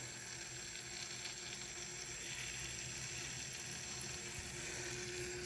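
A steady faint gurgling hiss of water and air moving through a small PC water cooling pump loop as air is bled out, continuous and close.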